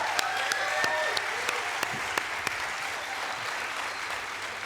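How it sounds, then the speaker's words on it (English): An audience applauds at an INSEAD Executive MBA (GEMBA21) graduation ceremony, a steady, moderately distant clapping with a few sharper individual claps, lasting about five seconds with no talking. "But let's give them a round of applause to start."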